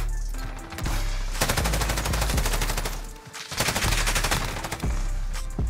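Two long, sustained bursts of rapid automatic fire come from an Encryption MK9 light machine gun in Modern Warfare. A brief pause separates the loud, dense bursts.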